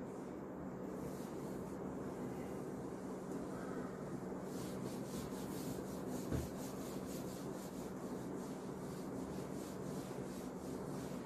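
Chalk or writing being rubbed off a board, a steady dry scraping and rasping that continues for several seconds with a brief knock partway through; no talking.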